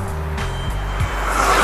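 A car passes along a road in city traffic, its engine rising and falling in a brief close drone with a low rumble.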